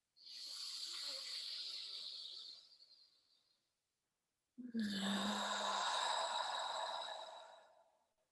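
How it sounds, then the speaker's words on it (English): Two long, deep breaths close to the mic during a guided meditation, a hissing inhale fading out, a brief silence, then a fuller, louder exhale that tapers away. "Deep breath into the third eye"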